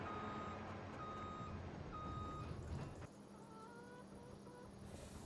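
A telehandler in Farming Simulator 25 gives off a string of steady, evenly spaced reversing beeps over a low engine drone. The beeps are faint and quiet, and the engine tone drops partway through.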